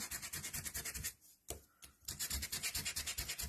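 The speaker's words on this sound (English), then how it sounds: "I have my sanding tool here" Rapid back-and-forth scraping of sandpaper on a hand sanding tool, steady rhythmic strokes close up, briefly pausing mid-way before resuming.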